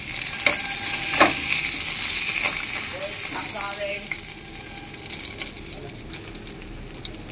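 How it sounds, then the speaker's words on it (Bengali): Pabda fish fry in hot oil with a steady, bright sizzle and crackle throughout, punctuated by a few sharp pops and clinks of stirring near the start. "আর চারটে মাছ বাকি আছে, এই চারটে মাছও আমি একইভাবে ভেজে নেব।"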